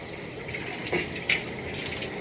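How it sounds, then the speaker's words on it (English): Shower water runs in a steady, even hiss close by, with a couple of faint splashes or knocks breaking the constant spray and no talking. "and I'm taking a shower."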